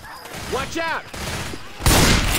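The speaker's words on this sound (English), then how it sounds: "Machine gun." Machine gun fire in the zombie shooter Left 4 Dead 2, a dense burst of rapid shots that starts abruptly and stays loud to the end, after a stretch of in-game voices and noise.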